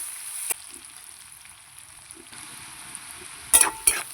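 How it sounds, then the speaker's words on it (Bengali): Chopped onions fry in oil in a pan for a shrimp and vegetable curry, a quiet, steady sizzling hiss broken by a few sharp clinks and scrapes of stirring, the loudest near the end. "পেঁয়াজটা একটু ভেজে নেব"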